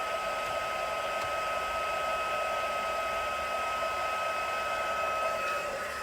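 A heat tool blowing steadily while heat embossing gold powder on cardstock for cardmaking, a constant close whirring fan hiss with a faint motor whine, unbroken and with no talking.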